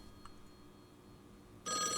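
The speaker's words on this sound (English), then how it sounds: "Phone." A telephone starts ringing near the end of a quiet stretch in the video game Call of the Elder Gods, with a loud electronic bell tone cutting in abruptly over faint background hum.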